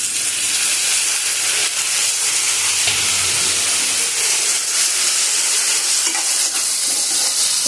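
Tomatoes and curry leaves fry loudly in hot oil in a pan for potato kara kuzhambu, a steady dense sizzle and hiss with faint stirring scrapes, no voices.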